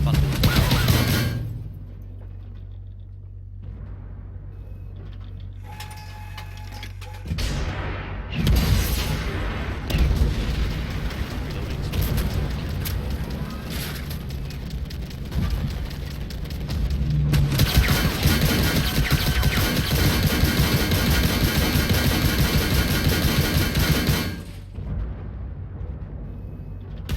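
BMPT-72 tank support vehicle in the video game Armored Warfare firing its autocannons and guided missiles, loud rapid bursts and heavy booms in long stretches separated by brief quieter gaps.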